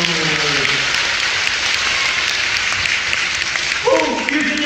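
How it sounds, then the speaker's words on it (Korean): Children clap together at a camp worship gathering, a dense, steady round of applause lasting several seconds, with an adult voice speaking over it at the start and again near the end. "다 같이 박수!"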